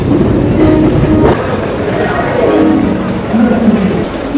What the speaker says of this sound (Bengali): পৌঁছে গেছি হাওড়া স্টেশন। ট্রেন আমাদের 4:05 ছাড়বে। এই হচ্ছে সরাইঘাট এক্সপ্রেস